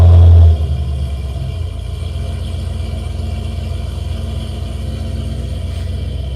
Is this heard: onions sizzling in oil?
no